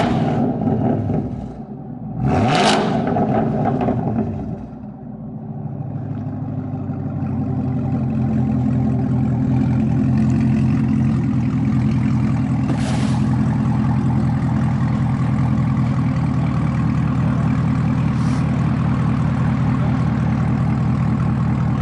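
Camaro ZL1 fitted with an AWE Track Edition exhaust gives a couple of sharp revs, then settles into a loud, steady, rumbling idle that holds close up for the rest of the stretch.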